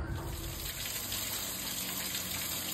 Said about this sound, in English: There we go, tank's overflowing.